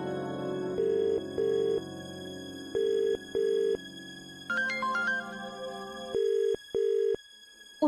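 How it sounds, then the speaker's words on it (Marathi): A telephone rings unanswered, its electronic ring repeating in short paired bursts with a higher chiming tone in between, over a faint steady line hum. "उचलत नाही ते फोन. तू कट कर आणि परत लावून बघ."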